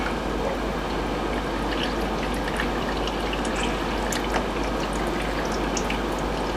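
Continuous steady pouring and trickling of murky water draining out of a moonshine still used for a rye-multigrain mash, close and even with faint drips throughout.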